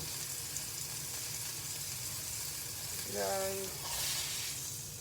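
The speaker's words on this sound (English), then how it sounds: "I'm gonna flip my burger." Turkey burger frying in a hot pan after being flipped, a steady broadband sizzle running throughout, with a brief louder hiss and a short spoken word partway through.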